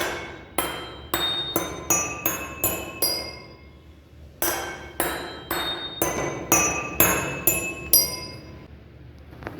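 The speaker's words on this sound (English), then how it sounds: "Now I will start hitting each glass." The tail of a spoon strikes a row of glasses filled with different amounts of water, producing two runs of about eight bright ringing clinks, each tone distinct and decaying, close and clear.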